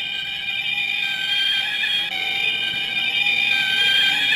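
A UFO key chain toy gives off a steady, eerie electronic space tone with layered high ringing pitches that hold unbroken for several seconds, close and clear with no voices over it.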